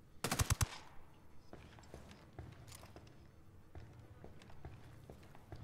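Suppressed gunfire in Ghost Recon Wildlands, a tight rapid burst of muffled shots near the start, followed by softer scattered thumps and footsteps over a low game ambience.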